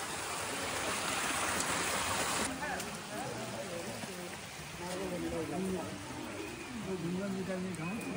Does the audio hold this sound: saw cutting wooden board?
no